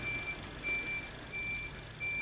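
Repeated reversing beeps from a construction vehicle working on new units next door, spaced steadily and heard faintly at a distance over low outdoor rumble.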